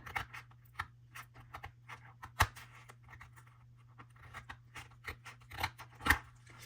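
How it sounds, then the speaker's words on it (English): Scissors snip and trim a homemade paper craft piece in a string of close, crisp cuts, with a few louder snips standing out over a steady low hum. "trim all this up here. So we're going to just cut it."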